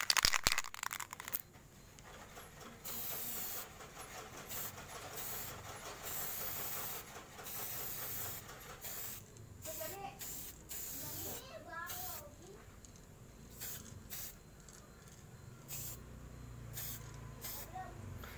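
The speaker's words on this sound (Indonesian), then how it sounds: "Langsung kita semprot aja." An aerosol can sprays black paint in steady hissing bursts that stop and start, with rattling and handling noises and someone talking over it.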